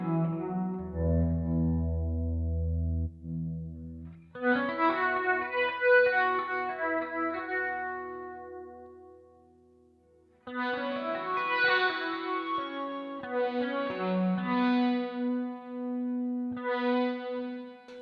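Electric guitar through a Headrush Gigboard effects unit set up for feedback, sustained distorted notes and chords that ring out and fade, then swell back with a chorus-like shimmer and echo, moderately loud with no talking.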